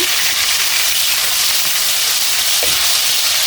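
Mango pieces with skin tumble into hot pure mustard oil and mustard paste for pickle, giving a steady close sizzle with faint stirring clicks throughout, no talk.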